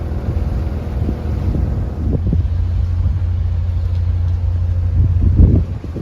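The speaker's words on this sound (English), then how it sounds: "We've still got about 10-15 knots of wind, but it's not bad in here because it's kind of sheltered." Wind blowing across a small sailboat waiting in a sheltered canal lock, a steady loud rumbling wash with low droning beneath and occasional gusty bumps, no talking.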